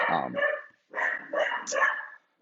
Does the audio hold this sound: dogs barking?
yes